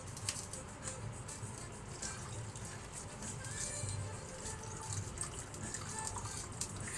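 Liquid sauce pours onto a bowl of Chongqing spicy noodles with a soft, continuous trickling and splashing, quiet and close, holding steady for several seconds.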